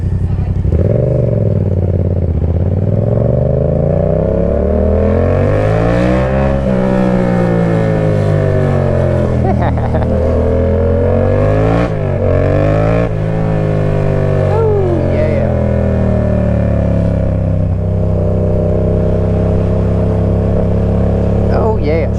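A motorcycle engine revs hard and repeatedly while squidding, with loud, sustained engine roar rising and falling in pitch across several throttle sweeps, close to the microphone.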